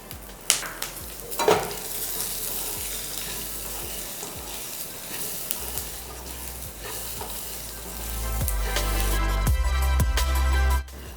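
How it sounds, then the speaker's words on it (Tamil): Onions, pepper, cumin and fennel sizzle steadily in a pan, with occasional clinks and scrapes of stirring. The frying grows louder and denser toward the end, with no voices. "இதெல்லாம் கொஞ்சம் நல்லா பொரியிற அளவுக்கு வறுத்துக்கங்க."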